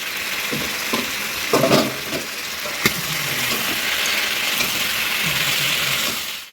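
Chicken kosha, spiced braised chicken, frying in a covered pan, with a steady sizzle rising as the lid comes off, plus a few clinks and knocks of lid and utensil near the start.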